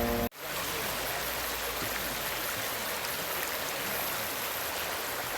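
Glacier meltwater flows as a stream in a valley on the road to Milford Sound, New Zealand, a steady, full rushing hiss that holds close and constant after a brief click at the start.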